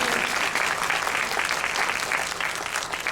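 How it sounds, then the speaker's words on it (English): Audience at a 2017 celebration event applauding a guest's introduction, a steady, full burst of many hands clapping at once, sustained and even throughout. "Yeah, you can clap."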